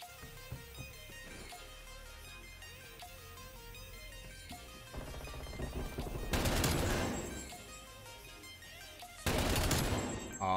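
EM2 assault rifle fire in Black Ops Cold War multiplayer, two loud sustained automatic bursts cutting in over quieter in-game sounds and music.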